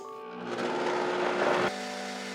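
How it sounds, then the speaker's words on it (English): A kitchen blender whirs steadily while blending pumpkin pie filling. The motor tone is loud and constant and grows rougher in the middle as the contents churn, then settles back to a smoother hum. "So now we're going to transfer it to a blender and blend it."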